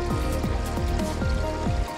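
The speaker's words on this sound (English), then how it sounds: "water flowing, quite good." Steady rushing water flows continuously with a low rumbling undertone, close by and fairly loud, with no voices.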